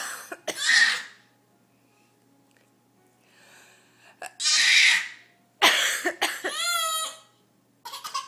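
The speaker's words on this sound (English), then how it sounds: "I have to cough." A person coughs in three loud, close bursts, the last a rougher double cough, separated by stretches of near silence.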